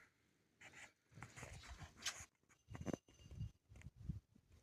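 A dog pants in quick, uneven bursts close by, with short breathy huffs spread across the few seconds and no talking.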